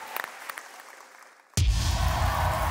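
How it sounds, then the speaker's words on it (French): Audience applause bursts out suddenly at a The Voice Afrique Francophone battle round, a loud, dense wall of clapping that starts abruptly after a few quiet moments with faint taps. "Applaudissez-le très fort, s'il vous plaît."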